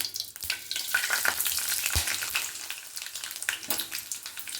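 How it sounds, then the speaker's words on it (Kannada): Mustard seeds splutter and sizzle in hot oil for a South Indian tempering, a dense, continuous crackling with sharp pops, close and loud with no talk. "ಇವಾಗ ನೋಡಿ ಸಾಸಿವೆನ ಒಗ್ಗರಣೆ ಕೊಡ್ತಾಯಿದ್ದೀನಿ."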